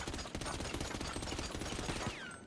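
Rapid gunfire in GTA 5: a fast, continuous burst of shots rattling off in quick succession for over two seconds, loud and close, ending abruptly with a brief trailing sound.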